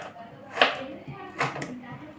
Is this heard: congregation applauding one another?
no